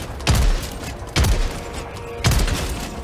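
Heavy gunfire from Helldivers 2 automaton robots strikes a mech exosuit in three loud, booming bursts spaced about a second apart, each a sharp broadband impact with a rumbling tail, with no talking over them.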